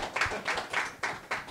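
A small audience at a talk on artificial intelligence and pop music claps in sparse, loose bursts, roughly five distinct waves of hand claps over a short stretch, fairly faint and close.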